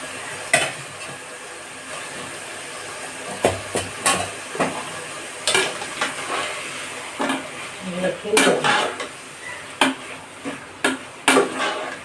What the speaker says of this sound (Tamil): நல்லா கிண்டிட்டு நல்லா வேகட்டும்